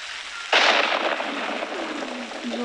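A thunderstorm in the Toca Life World game: a sudden loud thunderclap breaks out, then fades into a steady wash of rain.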